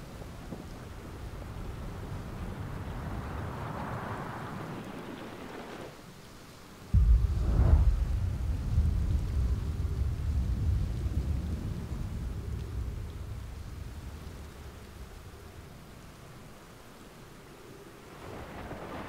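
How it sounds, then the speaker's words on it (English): A thunderstorm rolls through Outer Wilds: steady rain hiss, then a sudden loud thunderclap near seven seconds followed by a long, heavy rumble that fades slowly, with no talking. "Maybe I'm safe. The storm will protect me."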